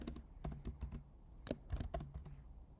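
Typing on a computer keyboard while entering React code, with a quick, uneven run of close key clicks and a few louder strikes, alone without talk.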